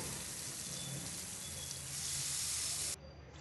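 Mutton pieces fry in hot oil with a steady, close, loud sizzle that swells slightly midway, then drops suddenly to a softer hiss near the end.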